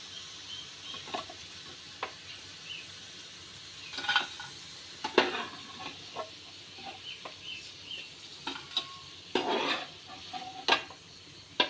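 Beetroot snacks deep-frying in hot oil, a faint steady bubbling hiss broken by scattered stirring and utensil clinks, with a few louder bursts near the end.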